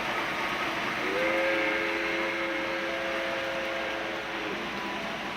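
A steam train on a model railway layout gives one sustained, steady whistle of about three seconds over a constant hum of background noise, with no one talking.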